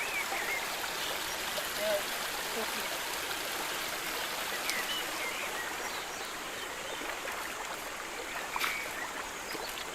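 A forest stream in Yalıköy's Amazon woods flows with a continuous, even rush and gurgle, with a few brief splashes standing out over the steady water noise.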